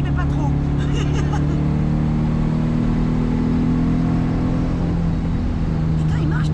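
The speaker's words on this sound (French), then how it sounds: "il marche ton moteur!" A Volkswagen Combi split-window van engine idles and runs steadily at close range with a low, continuous drone, while people talk over it.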